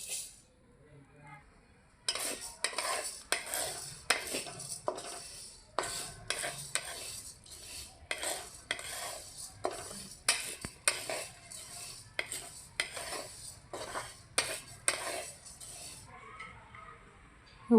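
Moong dal roasts in a pan over a low flame, stirred with a metal spoon that scrapes and clinks against the pan in a quick repeated rhythm, with soft dry rustling between strokes.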